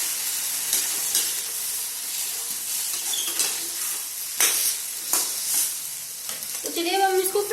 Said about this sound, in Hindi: हरी मटर डालने के बाद में हम एक बार फिर से इसको अच्छे से चला लेंगे